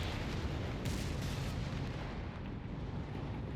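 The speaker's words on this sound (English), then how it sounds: "It's the anti-tank Overwatch artillery." Off-map anti-tank Overwatch artillery fire in Company of Heroes 3, a dense rumbling barrage of booms and blasts merging into a continuous roar, with sharper impacts near the start and around the first second.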